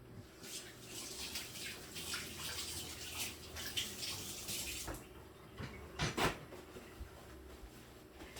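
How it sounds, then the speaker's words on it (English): Water runs steadily from a kitchen tap into a sink, with a few clinks and knocks of dishes over the continuous stream. "I'm gonna turn on my water for a second."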